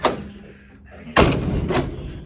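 A door latch on a 1959 Ford wagon clicks shut with a sharp metallic thud, preceded by a lighter click, close and alone.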